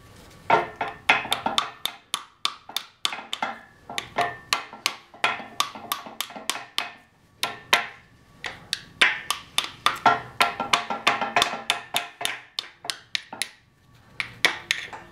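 A hammer taps a cam drive into place, dozens of sharp metallic strikes in quick irregular bursts with brief pauses, close and clear with no talking.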